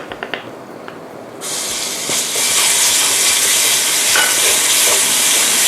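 A pounded paste of garlic, pepper, salt and coriander root hits hot oil, bursting into loud, steady sizzling and hissing after a few soft knocks, close up and continuous with no talk.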